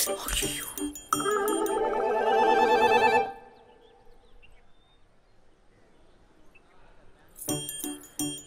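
A phone rings unanswered with a loud, bright electronic ringtone that repeats in bursts for about three seconds. After a quiet pause the ringing starts again.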